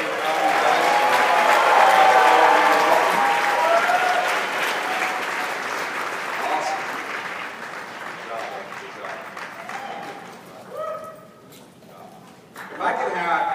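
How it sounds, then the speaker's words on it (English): Round of applause from a convention audience in a company breakout session, loud and sustained at first, then thinning to scattered clapping and crowd murmur, with a brief swell at the end. "So give them a round of applause."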